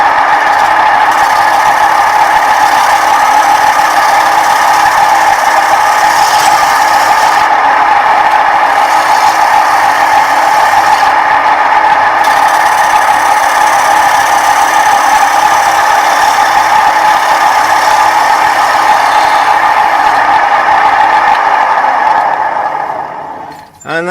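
A wood lathe running at 950 RPM turns a sweet chestnut bowl, giving a steady, loud, continuous whirring hum with tool scraping throughout, tapering off at the very end.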